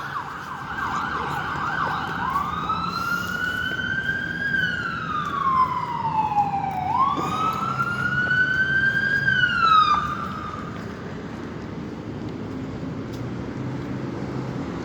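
An emergency vehicle siren wails outside Sunnybrook Hospital in Toronto, its rising and falling sweeps repeating for about ten seconds over a steady traffic rumble before it cuts off and the rumble continues alone.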